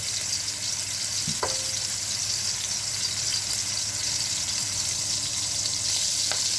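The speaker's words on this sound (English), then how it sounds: "So I'm cooking the shrimp a couple of minutes on each side." Shrimp frying in a pan for Chinese lo mein, a steady bright sizzle of hot oil that holds constant throughout, with a couple of faint clicks and scrapes of utensils against the pan.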